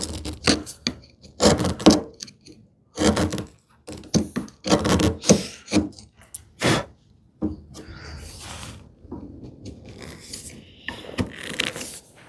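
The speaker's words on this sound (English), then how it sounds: "I have to use the 1/4 inch chisel because I could not get into that corner." A 1/4 inch wood chisel cleaning out a corner in hand-tool woodworking on a TV unit, with short, close, bursty scraping and paring strokes in irregular rhythm, then softer rubbing scrapes toward the end.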